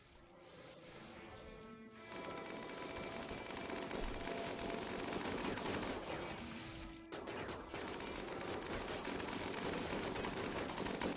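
Sustained, dense gunfire from a colonists' firing squad in the colony-building game Rimworld, with a Starship Troopers arachnid mod, sounding as a loud, continuous rattle of overlapping shots with no talking.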